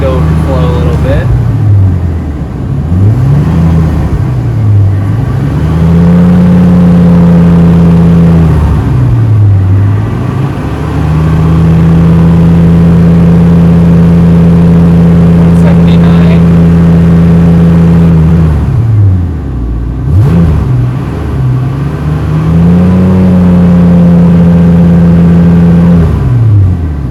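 A truck engine idles steadily while warming to operating temperature during a coolant bleed. Its low hum is loud and continuous, with its pitch dipping and recovering several times as the revs shift.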